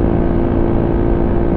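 A big bike motorcycle on the road passes close by, its engine giving a loud, steady droning roar with a tonal whine, sustained and unbroken with no speech over it.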